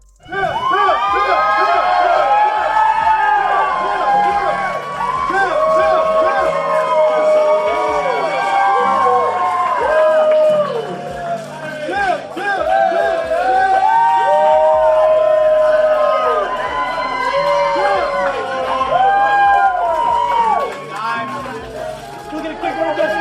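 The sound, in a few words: vocal hometown crowd cheering at the airport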